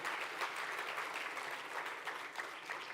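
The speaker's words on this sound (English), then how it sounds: "I think we can clap our hands." A conference crowd claps for a speaker at a livestreamed event, a continuous wash of applause at moderate level that holds steady throughout.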